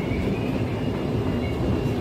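A steady, continuous rumble and whine from inside an LRT Ampang line train riding through Malaysia, with an even roar of wheels and motor throughout and no one talking.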